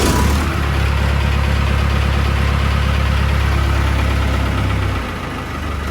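A tractor engine idles roughly after starting, a loud, close, low rumbling chug for about five seconds before it quiets abruptly near the end.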